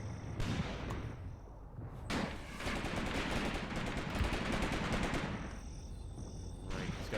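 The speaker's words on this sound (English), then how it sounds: "It's a vicious little shot there, and I hope that that's our gun firing" Gunfire from the WWII tactics game Graviteam Tactics: Mius-Front comes as several sharp shots and bursts over a constant rumbling battlefield din, with a few louder cracks standing out.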